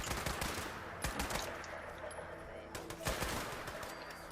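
Rapid automatic gunfire from the video game Fallout 76 during a raid, with dense bursts of shots and sharp cracks repeating throughout, loud and close over a busy game soundscape.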